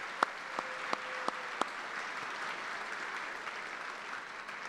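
Audience applause at a February 2024 Department of the Army retirement ceremony, a steady wash of clapping from a large crowd with a few sharp, close claps standing out near the start, holding evenly to the end.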